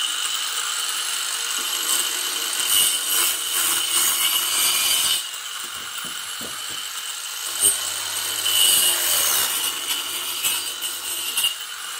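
A jigsaw adapter on an angle grinder rasps steadily through 4 cm thick softwood in long buzzing strokes, pausing briefly midway before cutting again, close and fairly loud.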